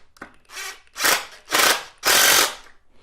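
Screws are driven into a board over a window opening by a power drill in four short whirring bursts, each longer and louder than the last, close by and without speech.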